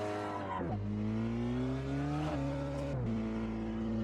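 A VW Golf GTI TCR race car in Assetto Corsa at Circuit Goodyear in Luxembourg, its engine droning loud and steady and climbing in pitch through the gears, with sharp drops at each of two upshifts.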